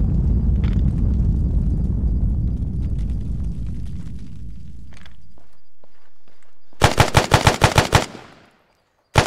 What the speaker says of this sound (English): Take cover, we're taking fire.